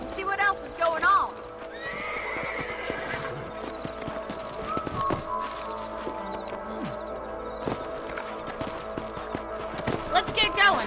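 Horses in the Red Dead Redemption video game whinny repeatedly over steady clip-clop hoofbeats, with several loud neighs near the start and end, while characters talk throughout.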